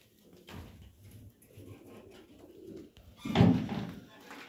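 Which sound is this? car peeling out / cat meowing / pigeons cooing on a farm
pigeons cooing on a farm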